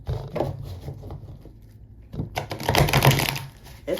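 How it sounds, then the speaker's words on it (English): A deck of tarot cards being shuffled, giving bursts of quick riffling and patter that start and stop, busier and louder toward the end, with no talk over it. "I'm gonna shuffle a little more just because."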